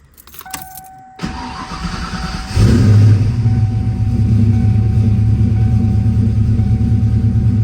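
A car engine cranks briefly after a chime and faint clicks, then catches and settles into a loud, steady idle rumble close by, with no talk.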